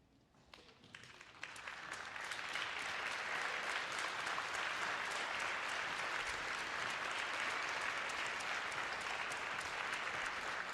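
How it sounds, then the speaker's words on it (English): Audience at a high school orchestra club concert applauds the soloists: clapping starts sparse and builds within two seconds into full, even applause that continues steadily, heard at a moderate distance with no talking over it. "I'm gonna ask all soloists to come out here so y'all can clap for them one more time"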